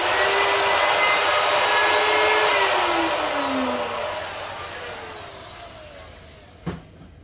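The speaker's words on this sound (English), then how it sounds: "you take your router, you set your router bit on the center of the hole, and then you just router out that little bit" A handheld wood router grinds steadily while cutting out the center of a hole in an artwork board, a loud continuous whine that slowly drops and fades, followed by a brief sharp knock near the end.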